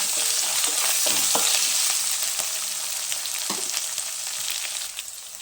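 Potato curry with a pinch of turmeric sizzles steadily in a pan for Telugu aloo capsicum tomato curry, with occasional soft scrapes of stirring over the constant hiss.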